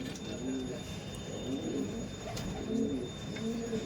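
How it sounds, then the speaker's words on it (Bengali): Giribaj high-flying pigeons, including a male, give low, rolling coos that repeat in soft bursts over a steady background hum. "দেখুন এটা ছিল নর পায়রা"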